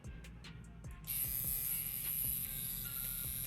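A tattoo pen machine switches on partway through with a close, steady high-pitched electric buzz that holds constant until the end, preceded by faint clicks and handling.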